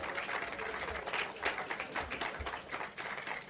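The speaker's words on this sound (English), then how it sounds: "Give them a big round of applause." Applause at an outdoor launch ceremony for a derelict vehicle and bulky waste removal program in Portmore, a steady wash of clapping from a gathered crowd lasting throughout.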